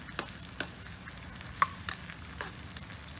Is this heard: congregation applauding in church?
no